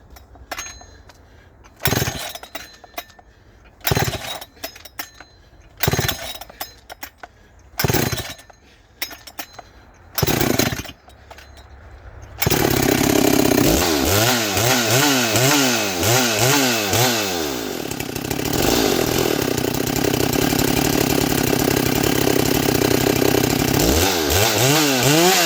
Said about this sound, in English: It's not the easiest saw to start for me, just because I'm tired right now after pulling on it